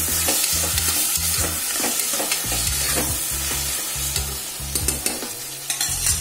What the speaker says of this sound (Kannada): ಬೆಳ್ಳುಳ್ಳಿ ಆಗಿದೆ, ಇವಾಗ ಟೊಮೆಟೊ ಹಾಕೊಳ್ಳೋಣ.